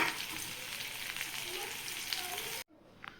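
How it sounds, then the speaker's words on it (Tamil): Onions deep-fry in hot ghee with a loud, continuous sizzle that cuts off abruptly near the end, leaving only quiet background and a faint tap. "இனி அதை எடுத்துகிட்டு வெங்காயம் போட்டு வறுத்துக்கலாம்"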